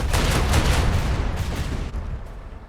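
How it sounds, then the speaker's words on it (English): Macro cannon volley from a ship in the Warhammer 40K Rogue Trader video game, a dense, loud rolling barrage of booming shots that tails off near the end. "Macro cannon."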